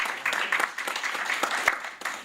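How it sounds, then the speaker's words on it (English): An audience claps in applause at a Namibian youth gathering, a dense, steady patter of many hands close by throughout, with a voice faintly underneath. "Give him a round of applause."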